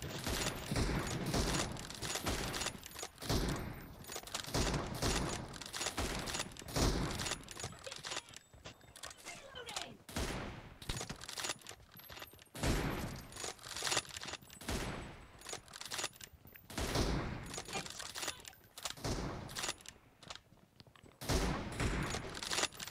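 Dense automatic gunfire from an M24 room team deathmatch in PUBG Mobile, with rapid bursts and single shots crackling loudly almost without pause, and no talking.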